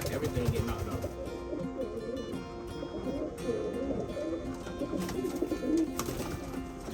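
Pigeons coo softly and steadily in a loft, a low murmuring chorus with faint background noise and some distant voices underneath.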